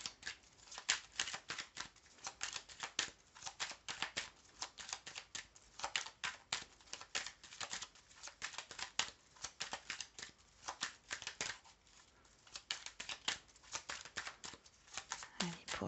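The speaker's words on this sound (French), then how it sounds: "Je tire 3 cartes, hein." Tarot cards shuffled and drawn by hand, a quiet, dense run of crisp flicks and snaps that goes on throughout, with soft speech faintly present.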